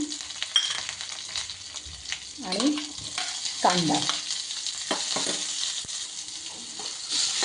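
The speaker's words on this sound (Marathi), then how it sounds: "फोडणी केली त्याच्यामध्ये जिरे कढीपत्ता लसूण" Steady sizzling of cumin, curry leaves and garlic frying in hot oil, continuous and close, with a few louder crackles and stirring sounds; a voice speaks briefly.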